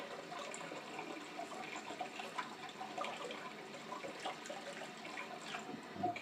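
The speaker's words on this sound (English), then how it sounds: "Wash off any of the grease, and holding it there, rinse it out properly." Running water rinsing the silver parts of a trumpet, a steady soft trickle and splash with small irregular drips, close by and fairly faint, no voices.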